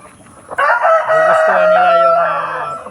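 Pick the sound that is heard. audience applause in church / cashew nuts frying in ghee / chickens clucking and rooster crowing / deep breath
chickens clucking and rooster crowing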